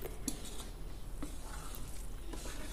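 Gram flour (besan) roasts in a pan for panjiri while a utensil stirs it, giving steady soft scraping with faint sizzling and a few sharp metallic clinks of spoon against pan, close and quiet.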